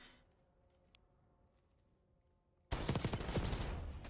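Rapid automatic gunfire bursts loudly in the video game Call of Duty Black Ops 6, a dense fusillade that erupts suddenly after a few seconds of near silence and keeps going.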